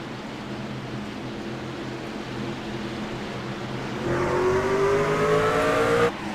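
Race trucks roar off the line at a green-flag start at Homestead-Miami Speedway in the iRacing sim, a dense engine drone that swells louder and rises in pitch as the field accelerates, with no talk over it.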